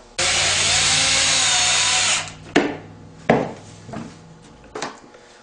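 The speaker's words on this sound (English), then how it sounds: "I'm just going to put a couple of self-tapping screws right through this woven wire, right down into this pipe" A power drill spins up and runs for about two seconds driving self-tapping screws through woven wire hardware cloth into a pipe on a sparrow trap, followed by several sharp metallic clanks and knocks as the work is handled.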